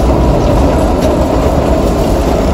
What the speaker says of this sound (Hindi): रास्ते में हमें क्रॉस हो रही है ट्रेन।